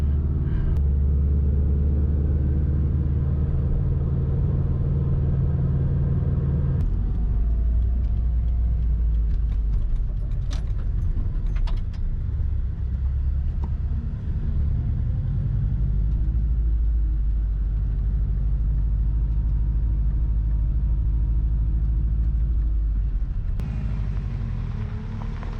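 A Subaru Impreza WRX Type RA GC8 being driven, heard as a continuous deep engine and road rumble from inside the car, steady and loud for the whole stretch with shifts in tone as it changes pace.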